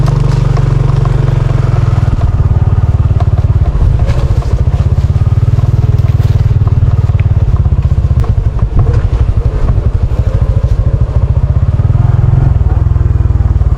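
A motorcycle engine drones loudly and continuously up close, with rattling and clatter from bumps as it rides over a rough rural road, with talk faintly underneath.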